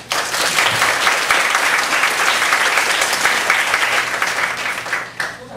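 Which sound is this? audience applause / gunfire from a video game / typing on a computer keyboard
audience applause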